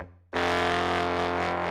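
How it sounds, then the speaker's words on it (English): Layered synth horns played together in a thick, gritty, distorted low chord that bursts in suddenly after a brief quiet tail and sustains loud and steady. "I played these horns in tandem with each other to sound like this"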